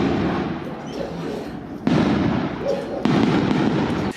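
New Year's Eve fireworks and firecrackers boom and crackle continuously, with two sharp louder bursts breaking through the rumbling barrage, and a voice speaks over the noise.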